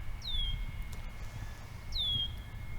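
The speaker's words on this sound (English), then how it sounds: "let's see if you can see that bird. I know you can hear it" A small bird calls from the very tip of a branch outdoors, giving two clear, high, downward-slurred whistles about two seconds apart over a low rumbling background.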